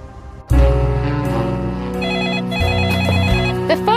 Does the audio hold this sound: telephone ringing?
yes